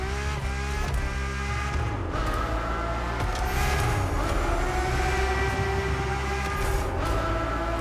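The naturally aspirated V12 of a Ferrari F50 in The Crew Motorfest roars loud and unbroken, its pitch shifting as it revs through the gears with a dense, layered harmonic snarl, heard alone without voices.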